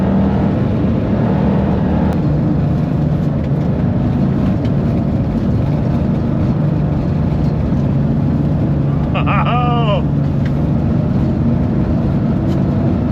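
A Porsche 911 on WRC rally spikes driven fast across ice, a constant loud engine roar and road rumble filling the cabin, with a brief squeal partway through and someone speaking over it.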